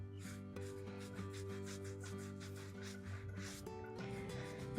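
Soft, steady rubbing on a clay joint of a hand-built vase, a faint continuous scraping texture over a low background hum.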